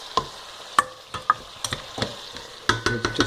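Chunks of onion and garlic sizzle softly in a pan, broken by repeated scraping and clicking stirs at an uneven pace, close by.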